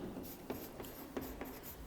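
Marker or chalk writing on a classroom board, faint scratchy strokes with short sharp taps between them, close and quiet, with no voices.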